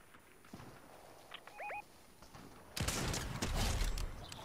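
A loud sniper rifle shot from the video game Fortnite cracks sharply about midway through, followed by a sustained burst of dense, noisy battle sound after quieter ambience with faint chirps.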